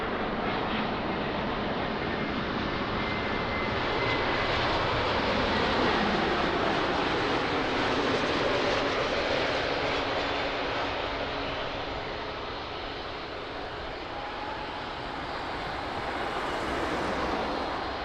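easyJet airliner on approach to Lisbon Airport, a continuous loud engine roar that swells and eases slightly as it passes, steady broadband rumble with no talk.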